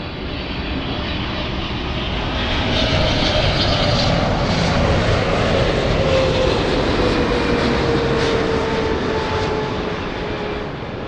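A Lufthansa airliner in 100th-anniversary markings comes in to land with a loud, steady engine roar that swells slightly and then holds, broad and continuous, with no voices.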